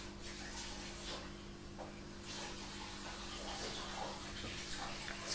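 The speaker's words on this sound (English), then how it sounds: "So I'm just going to quickly put a little bit of warm water in there." Warm water runs from a kitchen tap into a bowl, a continuous close hiss and splash with a faint hum beneath.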